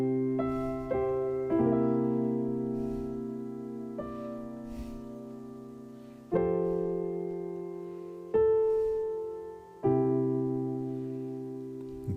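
Basic chord progression from Amazing Grace strummed slowly on a solo instrument, each chord struck and left ringing as it decays before the next, quiet and close with no talking.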